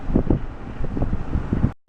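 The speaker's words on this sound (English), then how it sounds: "It's so blustery." Blustery wind buffets the microphone during a heavy rain storm, coming in loud, uneven gusts that rumble and thump before cutting off abruptly.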